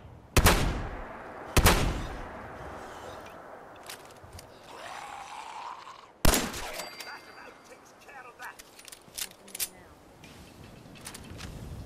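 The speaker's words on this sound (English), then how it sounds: "Oh, there's a turret also." Sharp gunshots from a turret in Fallout 4, a few loud isolated reports spaced seconds apart with quieter clicks and rustling between, and a voice speaking softly in places.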